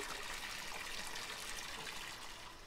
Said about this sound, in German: Dann füllen wir die mit Wasser.